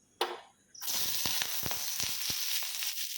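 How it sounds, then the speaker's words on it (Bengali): Chopped onion drops into a little hot oil in a wok and bursts into a loud, steady sizzle that keeps crackling after a short rustle at the start. "ছোটো ছোটো করে কড়াইতে একটুখানি তেল দিয়েছি, পেঁয়াজটা ছেড়ে দেবো।"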